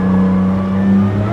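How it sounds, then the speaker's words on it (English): A RUF CTR3 supercar engine in a racing game holds a loud, steady, close-up drone with a strong low hum and layered harmonics, rising slightly in pitch toward the end, with no voices. "Oh, that engine sounds nice."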